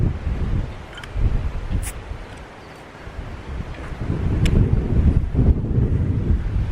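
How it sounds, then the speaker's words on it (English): Gusty wind blasts across the microphone in uneven, rumbling surges, rising and falling loudly with no voices. "hopefully the camera's not going to get blown over. It's a bit windy today."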